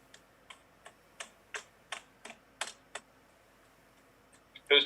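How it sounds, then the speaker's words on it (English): Typing on a computer keyboard during an online murder mystery game: about ten sparse, separate key taps at an uneven pace, faint and close, then a louder clatter at the end. "Who's typing?"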